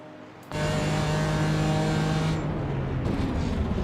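Aston Martin GT4 race cars at Jerez in a sim racing event, an engine note bursting in loudly and holding a strong harmonic drone as cars run close together, easing slightly near the end.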